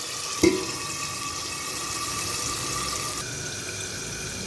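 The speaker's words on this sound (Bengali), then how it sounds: "সামান্য জল দিয়ে ঢেকে দিলাম" Water poured from a vessel into a cooking pot of potatoes for a Bengali curry, a steady splashing flow with a brief louder splash near the start, heard alone.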